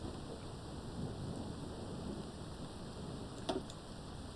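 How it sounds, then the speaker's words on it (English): Rain falls steadily in a video game, a constant hiss with a soft distant rumble of thunder and a brief sharp crackle near the end, no talking. "Is that the rain?"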